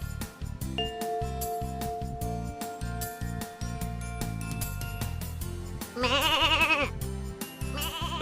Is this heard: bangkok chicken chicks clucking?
no